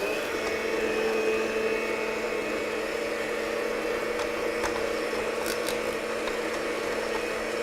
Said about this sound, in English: So just, beat it until it's just smooth and creamy.